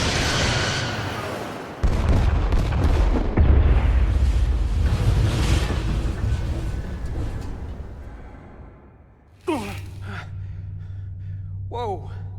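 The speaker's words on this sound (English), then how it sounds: "Firing torpedoes." Torpedoes firing and exploding in the Star Trek Resurgence video game, a long roaring blast that surges, fades away, then gives way to a sharp new impact, with voices and a gasp amid the din.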